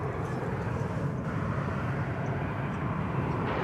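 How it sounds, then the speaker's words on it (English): A four-year-old Boeing 777 freighter bound for Liège, Belgium, at DFW Airport gives off a steady, broad jet-engine roar that stays constant and fairly loud for the whole stretch. "777 freighter."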